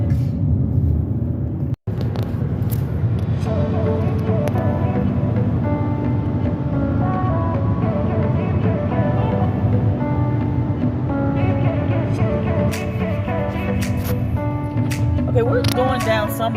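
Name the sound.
car driving along a back road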